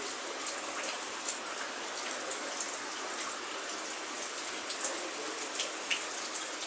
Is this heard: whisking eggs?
no